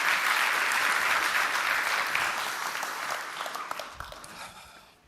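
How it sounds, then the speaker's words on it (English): Audience applause at a keynote speech at the Gutter Summit 2025, a dense, steady round of clapping from the crowd that fades gradually toward the end. "Let me get a round of applause for that."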